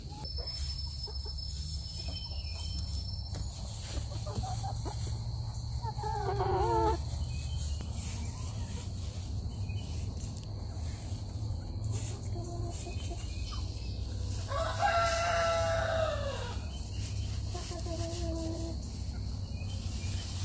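Backyard garden hens make scattered, fairly faint clucks and calls over a steady background hum, with no talking.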